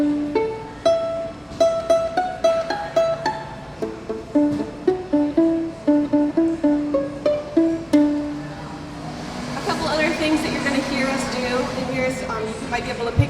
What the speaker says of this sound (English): she's going to demonstrate some pizzicato for you right now